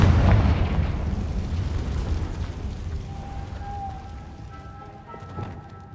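A Confringo spell blast in Hogwarts Legacy erupts in a loud, booming explosion that slowly rumbles and fades over several seconds, with faint tonal game effects trailing after.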